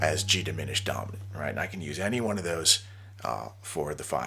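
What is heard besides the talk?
None of the usual background noises is heard.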